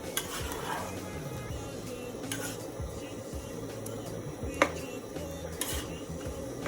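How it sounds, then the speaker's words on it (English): A spoon stirs rice stew in a pot, making faint, soft continuous scraping and swishing with a few sharp clinks against the pot, close and unaccompanied by talk. "I'm going to stir it and leave it for some 10-15 minutes."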